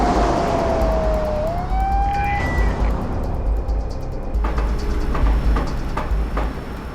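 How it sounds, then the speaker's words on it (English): A police car siren wails in a rising and falling sweep as the car passes, heard over steady road and engine rumble from inside a moving car, then the siren fades and the cabin noise carries on. "Police car."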